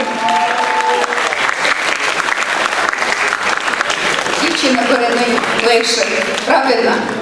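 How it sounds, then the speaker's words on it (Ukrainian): Audience applause at an evening show of student performances: loud, sustained clapping from a packed hall, steady throughout, with voices and a few cheers rising over it near the end. "Оплески, оплески."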